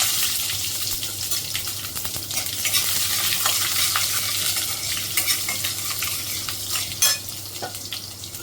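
Mustard seeds, cumin and chopped fresh garlic tempering in hot oil, giving a steady close sizzle with scattered sharp pops and crackles throughout.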